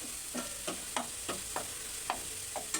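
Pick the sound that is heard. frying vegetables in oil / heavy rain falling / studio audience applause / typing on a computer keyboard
frying vegetables in oil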